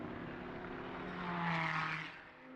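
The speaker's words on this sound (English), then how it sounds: "The number 17 just comes screaming past down the start-finish straight" Porsche 992 GT race car passing down the start-finish straight at Mugello during a four-hour endurance race, a loud sustained engine drone that swells as it goes by and then eases, with no talk.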